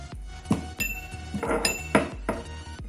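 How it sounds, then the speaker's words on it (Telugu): Cardamom pods with a little salt being coarsely pounded for a fried chicken marinade, producing several sharp, close, irregular knocks with a metallic clink, no voices. "ఇప్పుడు దీంట్లో 2 యాలకులు, కొద్దిగా సాఫ్ట్ని యాడ్ చేసుకొని కచ్చపచ్చాగా దంచుకోవాలి."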